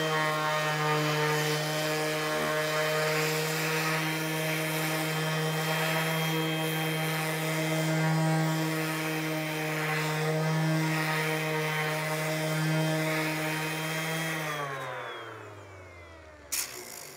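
A Parkside Performance cordless eccentric orbital sander, PAESP 12-Li A1, running at speed setting 6 with a 2.5 Ah battery while sanding spruce wood: a steady loud whine with a constant hum that winds down at the end.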